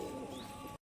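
A single low pigeon coo sounds briefly and softly up close before cutting off abruptly, with no talk.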